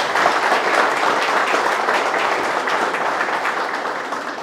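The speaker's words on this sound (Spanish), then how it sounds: "lo que yo sí le voy a pedir es un aplauso para mi equipo de trabajo" An audience at a rights event in Duarte Province, Dominican Republic, applauds a work team with dense, sustained clapping that fills the room evenly and stays loud for several seconds without voices.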